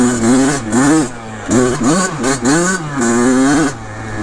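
A Kawasaki KX100 two-stroke dirt bike revs hard on a trail, its buzzy engine climbing and dropping in repeated close, loud throttle bursts with short gaps between pulls.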